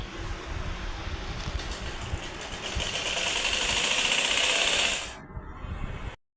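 A domestic sewing machine stitches piping at a wedding-preparation gathering at home, running in one steady, loud mechanical whir for about five seconds before slowing and stopping abruptly, with no talking.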